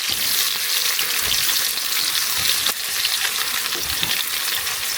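Garlic and ginger drop into hot oil and fry with a steady, dense sizzle that holds evenly throughout, with no voices.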